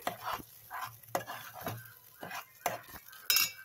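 Spoon stirring eggplant masala curry in a pot, Andhra-style stuffed brinjal gravy, scraping in a steady rhythm of about eight strokes with a faint sizzle underneath.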